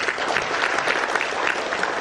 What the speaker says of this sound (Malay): Tepukan kepada CBP.